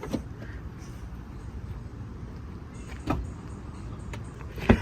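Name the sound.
BMW M4 Competition automatic rear hatch operating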